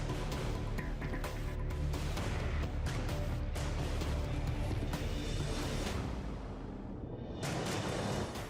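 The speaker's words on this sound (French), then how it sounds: "La deuxième explosion." Drone strike on a distillery, a heavy, loud, roaring blast with rumbling low end and sharp bursts, sustained and echoing before dropping off and flaring again near the end.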